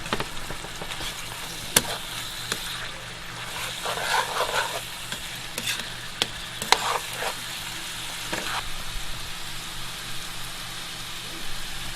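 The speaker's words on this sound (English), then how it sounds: "want to get that fresh garlic down in the pan. Give it a chance to brown." Fresh garlic fries in a pan under a steady, close crackling sizzle, with intermittent spoon scrapes and clicks from stirring throughout.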